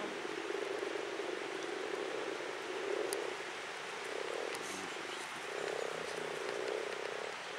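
Frogs in spring mating season near Piwniczna-Zdrój, Poland, croak in a dense, rolling chorus of rapid throaty pulses, fairly distant over a constant hiss.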